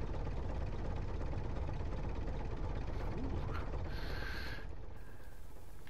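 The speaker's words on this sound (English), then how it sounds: "oh, listen to the sound of the engine" A modded animal goods transport vehicle engine from Farming Simulator 19 drones steadily and loudly throughout, a constant mechanical rumble with faint rattles and a brief higher-pitched whine near the end.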